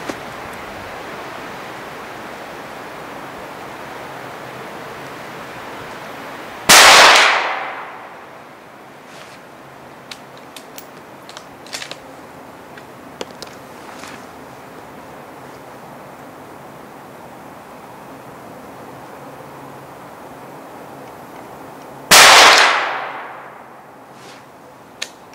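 Two loud, sharp gunshots fired at a target ring out about fifteen seconds apart, each a sudden crack that trails off quickly into quiet outdoor background.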